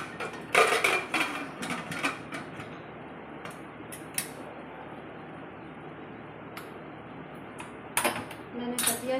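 Metallic clanks and scraping creaks as a pressure cooker lid is fitted and locked shut while cooking sambar, a few sharp clicks at the start and end, close by.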